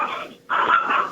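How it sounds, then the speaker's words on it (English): A single dog gives a short bark-like whine, then a louder, longer vocal burst right after a brief pause, close and clear with no talking. "Barking. I have a dog,"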